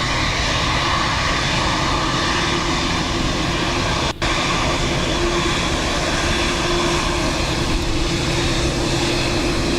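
An aircraft roars continuously on takeoff from runway 10 right at Dublin Airport, a loud sustained engine rumble on a windy, wet day, with a brief dropout partway through.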